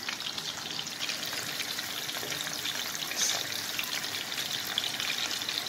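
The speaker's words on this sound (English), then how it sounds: "Let it fry for 1 minute, then we will turn other side" Fish frying in oil in a pan over very low heat, a steady, even crackle and sizzle that holds alone throughout with a slight swell midway.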